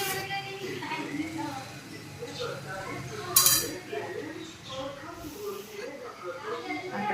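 Fruit salad powder stirred into boiled milk in a pot, a spoon scraping and clinking against the metal with one louder clatter, while someone talks over it.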